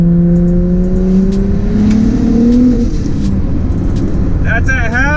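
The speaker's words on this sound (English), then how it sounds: "I broke traction at half throttle." Single-turbo N54 BMW 335i running 30 psi accelerating hard and breaking traction: a loud engine note climbing steadily in pitch, then easing off as an excited voice cuts in near the end.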